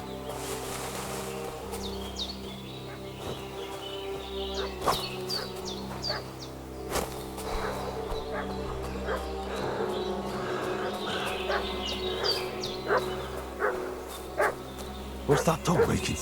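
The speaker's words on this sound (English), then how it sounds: "What's that dog making such a fuss about?" A dog barks in the medieval setting of the video game Kingdom Come: Deliverance 2, its sharp barks scattered irregularly over a busy ambient bed of birds, insects and distant animal sounds, moderately loud.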